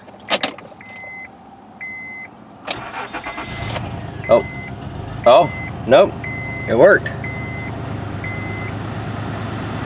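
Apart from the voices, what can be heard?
car engine starting and idling with misfire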